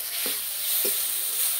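Mustard and ginger paste fries in oil with a loud, dense, continuous hiss, broken by two soft stirring knocks.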